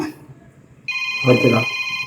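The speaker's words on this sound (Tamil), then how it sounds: "அடுத்து என்னடா ஃபோனு வருது" A telephone rings loudly and close by, its steady electronic tone starting partway through, with a voice talking over it.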